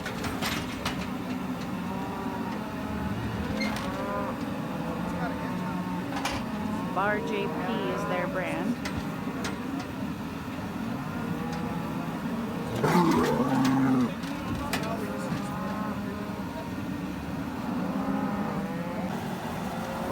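Cattle moo during a branding on a Montana ranch, with several drawn-out calls over a busy outdoor background of talk and an engine running.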